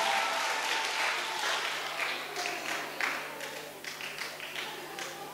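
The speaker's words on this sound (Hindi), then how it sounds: "एक बार जोरदार तालियां।" Audience applause at a school event at an international school, a sustained patter of many hands clapping that gradually thins and softens over several seconds, with faint crowd murmur beneath.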